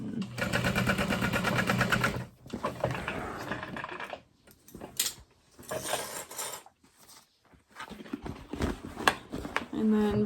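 A sewing machine gently back stitches and then continues along a Hexatote tote bag seam, running in several short, uneven bursts separated by pauses, close by.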